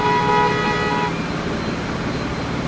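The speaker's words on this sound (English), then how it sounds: "The horns sound like car horns." A brief video game car horn honk in Transport Fever 2 at the start, fading into a steady rumble of road traffic.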